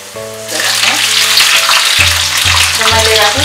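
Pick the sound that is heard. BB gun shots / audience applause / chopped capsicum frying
chopped capsicum frying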